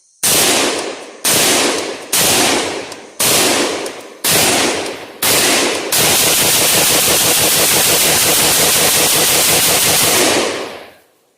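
A rifle fed from a STANAG magazine fires six loud single shots at a steady pace, then rips off a long unbroken burst of rapid fire before falling silent, all close by.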